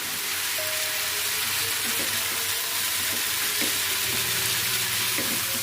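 Mixed vegetables sautéing in a hot pan, a steady sizzle with occasional stirring scrapes running throughout.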